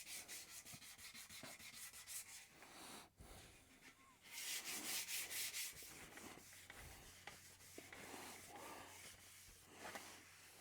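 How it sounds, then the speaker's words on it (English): A motorcycle front mudguard on a BSA is sanded by hand, quiet rhythmic rubbing strokes repeating close up, with a louder, faster burst of sanding partway through. "I'll get on and I will sand these up"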